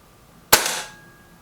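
A single sharp air rifle shot, from a Kral Puncher Breaker or a Reximex Accura, close and loud, with a short decaying tail in an otherwise quiet setting.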